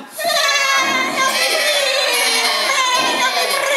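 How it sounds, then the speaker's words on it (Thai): A flock of sheep bleating loudly and continuously, many overlapping voices forming a dense, noisy chorus close by. "ฝูงแกะทั้งฝูงก็ร้องกระจองงอแงกันเสียงดังลั่น"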